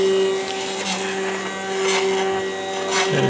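Axis motors on a home-built CNC router drive the gantry toward its homing switch, one axis at a time, a steady close whine and buzz with slight pitch swells that ends in a brief shift as the axis reaches the switch.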